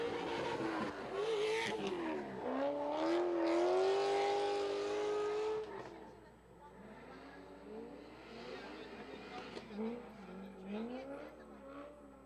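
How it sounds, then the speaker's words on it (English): A drift car on its sight lap at Sebring Raceway during a Formula Drift ProAM round roars loudly, its engine note climbing and bending as it revs, then continues more distant and quieter. "The next one out there on track is Brian Cox doing his sight lap."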